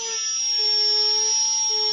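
Dremel rotary tool spinning a carbide burr bit for carving, a steady high-pitched whine held at constant speed throughout, close and fairly loud with no talking.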